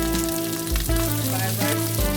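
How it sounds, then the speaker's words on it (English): Rice fries in a hot pan under a continuous sizzle, masked by loud, steady tonal background music. "Time to fry rice, guys."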